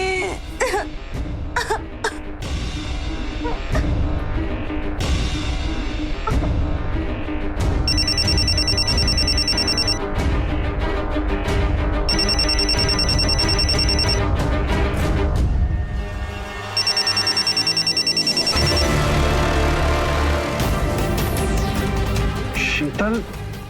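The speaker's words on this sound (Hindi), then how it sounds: "शीतल, फोन उठाओ।" A telephone rings repeatedly in bursts during a Hindi crime drama scene, its bright electronic ringtone sounding over tense music and background sound, with coughing and throat clearing nearby.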